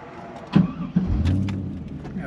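A 1999 Pontiac Trans Am 30th Anniversary Edition with its LS1 350 V8 starts up: a short starter crank, then the engine catches with a low, close rumble and settles into a steady idle.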